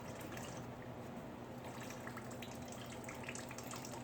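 Antifreeze drains steadily from the lower part of a 2006 Dodge Ram 5.7L truck radiator during a water pump replacement, a continuous soft liquid trickle and splash with a low hum underneath, even and unbroken.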